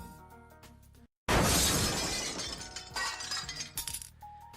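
A gunshot punches through a large glass office window, a sharp burst after a moment of silence followed by a loud shattering spray of glass and scattered tinkling shards falling off, with no voices.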